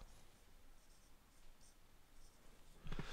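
Pen writing out a trigonometry math derivation on paper, a faint, steady scratching with small strokes, quiet and close, ending in a slightly louder tap or scrape.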